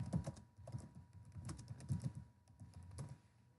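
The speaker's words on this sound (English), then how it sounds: "as I type, it updates on the right-hand side" Computer keyboard typing close by at a quiet level: irregular soft key clicks in short bursts, with no talk.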